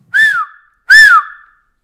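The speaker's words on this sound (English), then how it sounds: "Then he waves a flag and blows his whistle." A train guard's whistle in a cartoon sounds as the train departs: two loud, clear, shrill blasts, each rising then falling in pitch, separated by a short gap.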